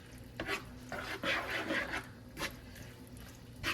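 Cheese is stirred and folded into a hamburger mixture in a pan with repeated soft scraping and squelching strokes in an uneven rhythm, each a short burst with quieter gaps, close by and with no talking.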